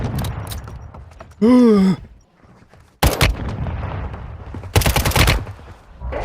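Gunfire in the mobile shooter Warzone Mobile comes as sharp bursts of automatic shots, one at about three seconds and a longer rattling volley near five seconds, mixed with game effects and a rising electronic whine.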